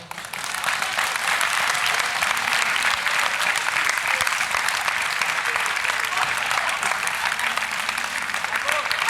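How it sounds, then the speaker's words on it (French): Loud, full applause from an audience for young performers after a theatre show, a dense continuous clatter of many hands holding steady throughout with a faint murmur of voices beneath. "j'aimerais qu'on les applaudisse une dernière fois"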